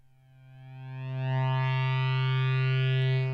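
A Mela 2 virtual analog synth holds a single sustained, buzzy note after its sustain level is raised, swelling louder over the first second and a half and staying steady and close.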